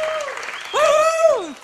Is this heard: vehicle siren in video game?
no